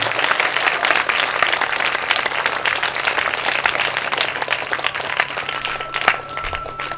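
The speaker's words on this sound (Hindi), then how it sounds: "इनको आप तो लोग तालियों के माध्यम से आशीर्वाद प्रदान करिए" Loud, dense applause from a large audience at a Ram Katha religious gathering in Ambedkar Nagar, Uttar Pradesh, sustained steadily throughout with no voices over it.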